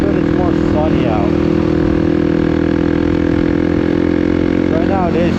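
A motorcycle engine runs steadily while riding in chilly, cloudy weather, a loud, continuous low drone with wind noise up close and a person talking over it.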